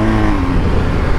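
A BMW R 1250 GS Adventure motorcycle engine pulls under throttle on a dirt fire road, a loud, close, steady rumbling drone over a short burst of riding.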